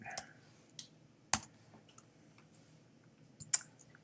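Someone types on a computer keyboard while writing iOS storyboard code, giving a few sparse, quiet keystroke clicks over a soft background hum.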